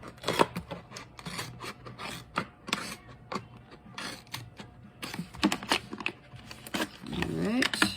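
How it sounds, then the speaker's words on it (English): Scissors cutting around the lines of a paper craft project, heard as quiet, close rasping snips and scraping in irregular bursts, with occasional handling rustle. "I'll be able to stick my scissors right in here and cut around"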